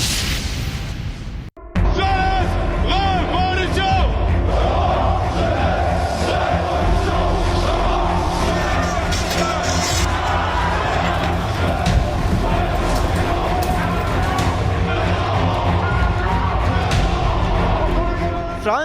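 Protesters rioting in the streets of Paris, France, raise a dense, loud, continuous crowd roar of shouting and chanting voices that holds steady for nearly the whole stretch after a brief gap near the start.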